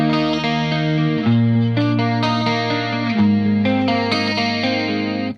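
A clean electric guitar tone through a 5150III amp head at very low gain rings out as sustained chords change every second or so, close and steady, with chorus-like shimmer and no talking.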